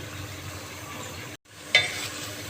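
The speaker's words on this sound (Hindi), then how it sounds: "तेज़ गरम तवे पे हम भिंडी डालेंगे और धीमी आंच पे फ्राई करेंगे इस तरीके से" Okra frying on a hot tava over low heat, a steady soft sizzle broken by a brief cut to silence, then a slightly louder hiss as cooking resumes.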